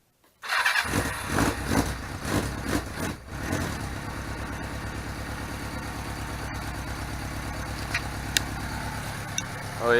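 A cafe racer motorcycle engine cranks and fires up, then settles into a steady, close, loud idle with a brief blip or two near the end.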